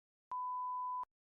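A single clean electronic beep, a steady pure tone lasting under a second, sounds alone in silence as a cue in an English listening exercise.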